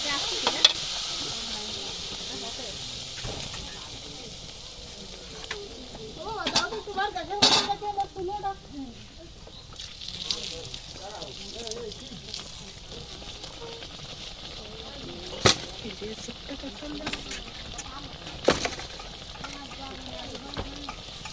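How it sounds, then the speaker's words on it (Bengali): Winter pitha cakes fry in oil in a home kitchen, giving a steady hiss with occasional sharper crackles and pops, while a voice talks now and then over the sizzle. "সেটাকে এভাবে আমি প্রত্যেকগুলো পিঠা ভেজে নেব।"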